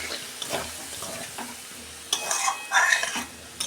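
Spice paste for potato dum, thinned with a splash of water, is stirred and fried in a pan, with close scraping strokes and rising bursts of sizzle in the second half, and no voices.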